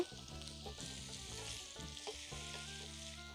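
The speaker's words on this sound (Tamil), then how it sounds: "இப்போ இது நல்லா வதங்கட்டுங்க. இந்த தக்காளி இப்போ தாங்க வதங்க ஆரம்பிச்சிருக்கு" Tomato masala for paneer butter masala frying in a pan, a steady close sizzle with light stirring scrapes throughout, no voices.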